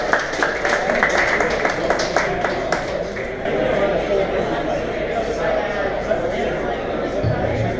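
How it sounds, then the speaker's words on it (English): Audience applause following a tech talk at a Saratoga TechTalks event, a steady wash of many hands clapping in a room for several seconds with crowd murmur mixed in. "another round of applause for the face."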